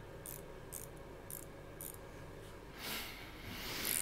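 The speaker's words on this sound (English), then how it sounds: "Little ratchet drive." A small ratchet drive spanner clicks in a home workshop, four faint, evenly spaced ticks about half a second apart over a quiet insect-like hiss, with no talking.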